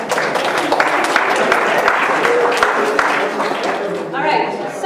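Round of applause from a lecture audience, a dense steady wash of many hands clapping at close range for nearly five seconds, tapering slightly toward the end.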